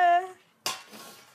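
Dishes, pots and serving utensils clatter in a sudden sharp burst of metallic clanging during a large dishwashing job, ringing briefly and then fading; a voice is heard just before the clatter.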